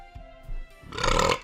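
A low, rough burp after drinking Bell City Eureka Cream Ale, a short guttural swell rising near the end, close and fairly quiet.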